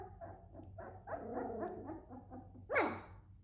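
Doodle puppies at play, yapping in short high barks and whimpers, close by, with a sharper yelp rising at the end.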